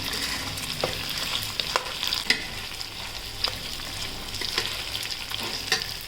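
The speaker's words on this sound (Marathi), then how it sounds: "आता डाळ्या, बडीशोप आणि तीळ हे आपण तेलात टाकूया. ते तेलात परतून घेऊ चांगलं." Dal, fennel seeds and sesame seeds frying in oil for poha chiwda, a continuous close sizzle with scattered crackles and stirring scrapes throughout, no voices.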